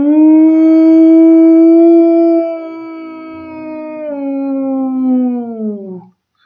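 A person imitates a wolf howl with a single long, loud, sustained sung wail that holds steady and then slides downward before cutting off.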